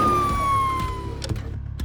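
A police car siren wails in a steady, loud, close tone that slides slowly downward, then cuts out and leaves a few sharp knocks and clatters.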